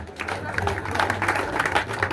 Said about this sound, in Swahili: Tumpigie makofi chamani wetu